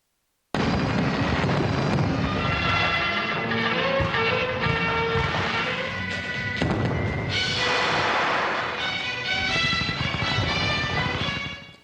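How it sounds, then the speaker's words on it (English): Fireworks at a military ceremony of the People's National Army: a dense, continuous roar of bursts and crackle, loud and unbroken for about eleven seconds, with a brighter, busier stretch near the end. "The ceremony then concluded with a fireworks display commemorating this occasion."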